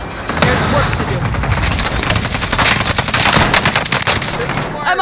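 Automatic gunfire in Call of Duty Warzone on Rebirth Island, rapid close bursts of shots crackling over a rumbling battlefield bed, loud and sustained, with a game voice speaking over it.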